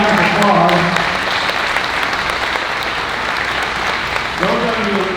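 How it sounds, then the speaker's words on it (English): An audience at a 2020 youth livestock sale of champions breaks into sustained loud applause, a dense wash of clapping that carries on while someone speaks over it at the start and end. "Let's give her a great big round of applause."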